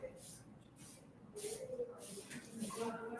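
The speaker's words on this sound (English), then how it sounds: "Just spray like this all over" Water spray mists over mushroom cultivation bags punched with holes, a few soft hissing bursts in quick succession close by, with a quiet voice talking underneath.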